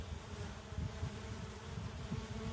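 Stingless bees arrive at an indoor and outdoor feeder, giving a steady, close buzzing drone that holds for the whole stretch with no voices.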